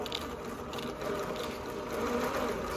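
Consew industrial sewing machine stitching, a steady mechanical whir with rapid clicking of the needle mechanism, close up and moderately quiet.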